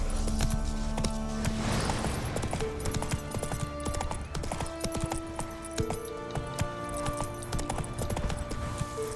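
Hooves of the horse Roach clip-clop in a quick galloping rhythm in a video game, close and steady, with jingling tack and scattered game sounds over a low musical bed.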